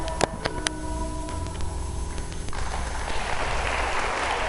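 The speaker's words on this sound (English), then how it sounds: "Then comes the applause." Applause from a film's closing credits, starting as scattered claps over a tonal music bed and swelling into dense, sustained clapping through the second half.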